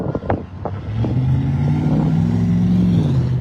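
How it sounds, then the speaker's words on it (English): A loud truck revs its engine on a street, a steady low roar that holds and swells near the listener after a few brief knocks at the start. "The loud truck is revving his engine again when I get across the street."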